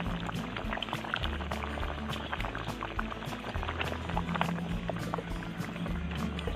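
Pork belly broth for adobo simmering in a pot, a steady close bubbling and gurgling of liquid that continues evenly without a break.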